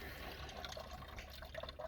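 Water pours and gurgles quietly into a car's cooling system after a new water pump install, a faint continuous filling trickle with no talk.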